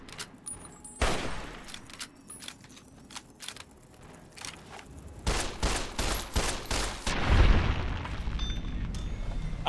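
Gunshots in the video game Fallout: Tale of Two Wastelands, a handful of sharp, loud blasts scattered across the span, with heavier booming bursts toward the end over a steady low rumble.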